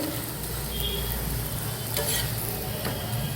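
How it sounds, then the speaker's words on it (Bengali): A cauliflower paratha fries crisp in a pan, a steady close sizzle with a few light scrapes and stirring touches, no voices. "দেখুন মচমচে করে ভাজা হয়ে যাচ্ছে।"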